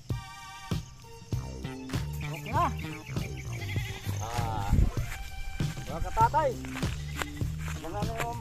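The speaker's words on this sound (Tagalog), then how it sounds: "Magsisipaglabasa na kayo mga kambing." Goats on a farm bleat repeatedly in short wavering calls, several animals close by, mixed with footsteps and shuffling while a person talks over them in Tagalog.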